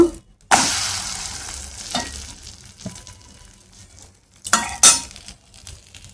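A piece fried on each side in a little oil, with short sizzling bursts as it hits the pan, a spatula scraping and clinking against the pan, and quieter gaps between the bursts.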